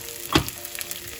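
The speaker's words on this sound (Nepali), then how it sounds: "अब गुँदको पालो। मैले यसलाई घिउमा भुट्दैछु।" Pieces of edible gum (gond) fry in hot ghee, giving a close, crackling sizzle with one sharp burst as a batch goes in, then a steady bubbling hiss.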